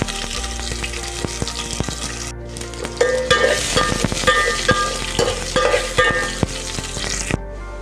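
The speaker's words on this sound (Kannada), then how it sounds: "ಏನೇನು ಒಗ್ಗರಣೆಗೆ ಇಟ್ಟಿದ್ವಿ ಅದನ್ನು ಹಾಕ್ಕೊಳ್ಳಿ." Mustard seeds and other tempering spices fry in oil for sambar, a loud crackling sizzle with sharp popping bursts and spoon-against-pan clatter, growing busier midway, no voices.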